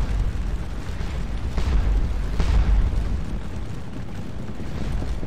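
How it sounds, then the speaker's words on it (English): Booming artillery fire in a Napoleonic Waterloo battle game, with deep rolling thuds and a couple of sharper bursts rising over a continuous low battlefield rumble, heard without speech. "The artillery's coming up now."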